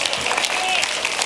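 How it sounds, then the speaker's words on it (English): An audience at a sermon gives brief, steady clapping that fills the whole moment, close and fairly loud. "Go ahead and clap."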